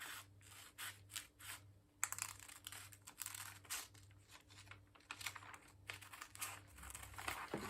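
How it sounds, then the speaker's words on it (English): Scissors cut fabric for a kimono dress sleeve, quiet snipping and crisp rustling in short repeated strokes over a faint steady background hum, close and soft with no talk. "Then you come towards this side to be able to cut the sleeve area."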